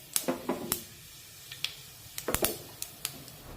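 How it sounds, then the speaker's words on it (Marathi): Mustard seeds and cumin seeds crackling in hot oil in a kitchen pan, a scattered run of sharp close pops and ticks at irregular intervals over a quiet background, with no talking. "आता मोहरी छान पैकी तडतडली की त्यामध्ये अर्धा चमचा जिरे टाकूया जिरे पण छान फुरून फुटले पाहिजेत"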